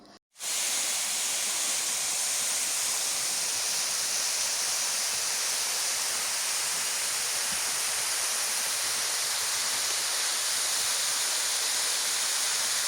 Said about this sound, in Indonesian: Air terjun Selorjo belum banyak yang mengetahui dan belum ada yang mengelola.